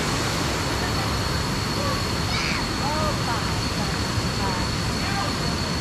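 Dense, steady roar of falling water at Kuang Si waterfall in Laos, loud and close, with faint voices barely heard beneath the constant rush.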